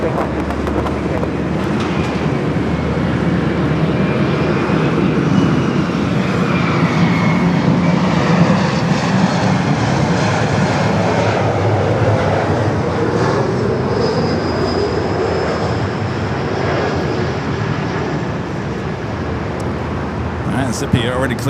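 A jet airliner rolls for takeoff on runway 24 left at LAX, a loud continuous broadband roar that holds steady throughout with a rising whine near the end, while voices talk over it.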